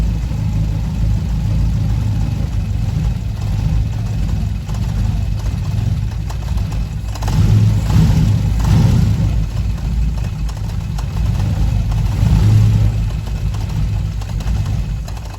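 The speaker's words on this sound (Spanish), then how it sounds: "notarán que el motor se va a querer apagar" Fiat 147 with a carburetor running a rough, steady idle near the engine bay, the note swelling briefly twice as it struggles and threatens to stall once the throttle closes.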